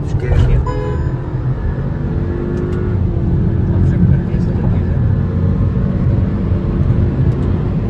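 Two Skoda Octavia 1.8 TSI cars, one stage-1 tuned and one stock, race side by side at high speed in a drag race. Their engines make a loud, steady roar with wind rush, heard close throughout.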